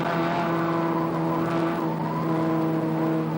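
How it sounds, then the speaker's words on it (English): A Ford Sierra Cosworth race car at a 1987 24-hour endurance race gives a loud, steady engine drone with a sustained tonal hum throughout, pitch shifting slightly but never pausing. "The Willhire Sierra Cosworth there getting held up just in front by, that's the Terry Stone Toyota Corolla just up there."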